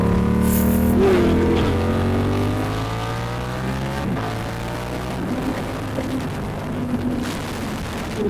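A Yamaha MT-07 two-cylinder 700 motorcycle engine roars loudly and close up, its pitch sliding down as the revs fall, then settling into a lower rumbling drone with gusts of wind noise.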